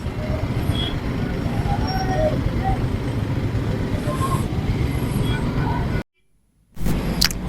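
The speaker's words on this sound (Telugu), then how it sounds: "కిలోమీటర్స్ నుంచే ఉంది గైస్ ట్రాఫిక్." Continuous broadband road traffic noise on a congested route to the Maha Kumbh Mela at Prayagraj, a steady rumble of cars, buses and trucks close by, with faint voices, a brief dropout near the end and then the traffic again.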